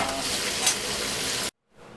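Lamb ribs frying with garlic in a hot pan give a dense, steady sizzle close up, which cuts off abruptly and then returns faintly.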